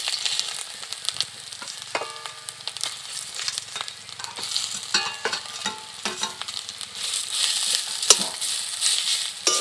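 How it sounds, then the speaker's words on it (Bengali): Taro (mankachu) is added to hot oil with fried black cumin tempering in a pan, setting off a lively sizzle with scraping stirs and crackling pops that grow louder and denser toward the end. "ফোড়নটা ভাজা হয়ে গেছে, এবার মানকচু দিয়ে দেব।"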